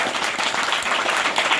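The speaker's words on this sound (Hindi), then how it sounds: "एक बार जोरदार तालियां वसुंधरा के लिए" Dense, steady applause from an audience at an honour ceremony for an international boxing player, a loud, continuous wash of many hands clapping together without a break.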